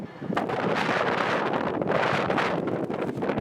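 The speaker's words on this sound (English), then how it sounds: "it's so fucking windy" Strong wind at a penthouse rooftop ramp buffets the microphone in loud gusting surges, rising and falling over a few seconds, with no talking.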